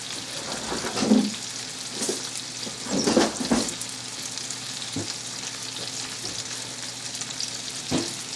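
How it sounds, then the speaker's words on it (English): Venison steak sizzles and fries steadily in a pan, with occasional louder crackles and scraping stirs close by, no talking. "we'll tend to the meat"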